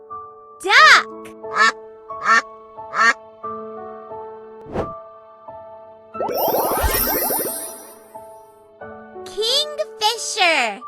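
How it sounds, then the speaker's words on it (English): A duck gives a run of loud nasal quacks in short bursts, interspersed with other bird calls and a chattering, whistling flurry partway through, in a bird identification setting. "Duck."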